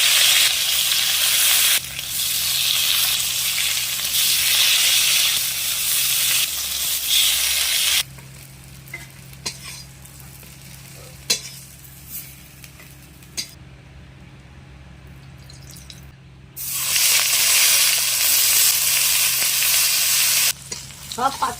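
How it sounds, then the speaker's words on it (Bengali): Bottle gourd leaves frying in oil in a wok over low heat, a loud close sizzle that drops to a quieter crackle with scattered utensil clinks and scrapes, then surges back to full hiss, with no voices. "হালকা আঁচে এই লাউ পাতা আমি ভেজে নেব।"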